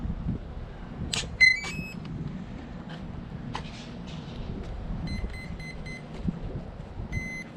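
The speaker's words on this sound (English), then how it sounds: "Four beeps." Short electronic beeps from an RC plane's speed controller, a Motion RC Skynetic Havok Racer, sound in a few quick tonal bursts, including a run of four evenly spaced beeps, over a low background rumble.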